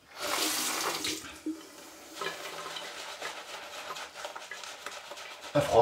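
Tap water runs into a sink with a steady hissing splash that rises and falls, fairly quiet and close, with some clatter near the end and no talk.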